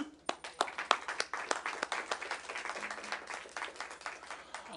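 Round of applause at a city board of directors meeting: a modest group clapping in a quick, irregular patter, fairly faint, with some voices mixed in and a low hum underneath.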